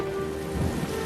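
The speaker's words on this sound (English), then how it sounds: "Oh, they're about to get rained on." A rain shower in a scene from the film The Notebook, a short, dense patter of rain with a low rumble beneath it and a sustained musical tone over the top, with no voices.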